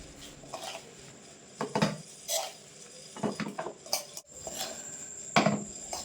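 A spoon scrapes and clinks against a container as sour-spicy raw mango pickle is ladled in, with irregular close metallic taps and knocks separated by short quiet gaps and no talking.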